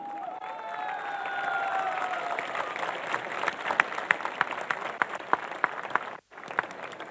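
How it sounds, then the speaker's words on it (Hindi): Audience applause at a folk culture stage event, a dense, steady wash of clapping with some cheering and whistle-like tones at first, then sharper individual claps standing out before a brief cut near the end. "और तालियां भी दर्शकों की संख्या के अनुपात में बजती हैं।"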